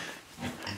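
A pig grunts at close range during a horse pasture outing with an electric fence, with low snuffling grunts across the short moment and no talk over it.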